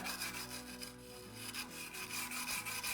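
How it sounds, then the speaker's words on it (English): Loose rust being scrubbed off a motorcycle wheel rim: a steady, close rasping rub in quick back-and-forth strokes, fairly quiet, over a low musical hum. "Get that any loose rust off of there"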